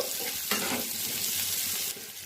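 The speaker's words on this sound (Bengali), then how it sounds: "আলুগুলো একটু কিছুক্ষণ ভেজে নেব।" Potatoes frying in hot mustard oil in a pan, a steady broadband sizzle with a brief stirring scrape near the start, close and continuous with no talking.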